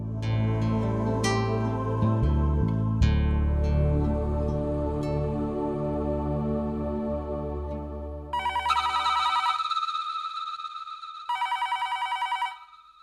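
A telephone rings in a Hindi TV drama scene: after several seconds of dramatic background music, two loud bursts of electronic ringing follow with a short gap between them, and no one speaks.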